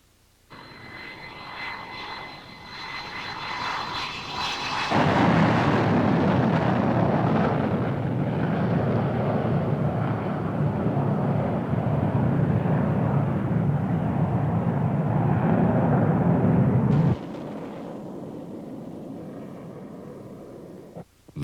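An F-14 Tomcat jet fighter flying at high speed, a loud, sustained roaring rush that swells suddenly and holds steady for about twelve seconds before cutting off abruptly.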